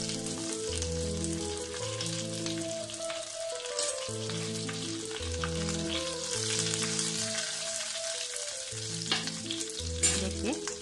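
Curry leaves and chili crackle and sizzle in hot oil for a chickpea sundal, a continuous close frying hiss with light stirring, heard under steady background music and no voices.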